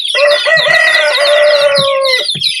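A man imitates a rooster crowing, a loud, close, drawn-out cock-a-doodle-doo of about two seconds with a few short throaty clucks before and after, with no other sound around it.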